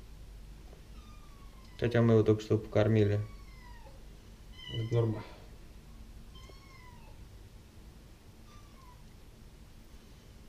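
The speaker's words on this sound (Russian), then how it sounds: "Кот настойчиво просит курицу." A cat meows insistently while begging for chicken in a kitchen during cooking, giving a cluster of loud, drawn-out calls, then a shorter meow and a few fainter ones, with people talking nearby.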